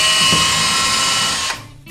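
A power drill whines steadily and loudly for about a second and a half while drilling into a wall, then cuts off abruptly, leaving quiet room noise.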